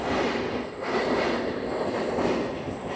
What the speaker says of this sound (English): oop, there's a train.